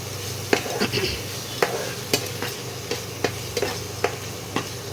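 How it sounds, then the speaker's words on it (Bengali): Spice paste stir-fried in a pan for a vegetarian poppy-seed and kohlrabi dish, with a low continuous sizzle and regular spatula scrapes and clicks at a steady, unhurried pace. "মশলাটা একটু কষিয়ে নিতে হবে"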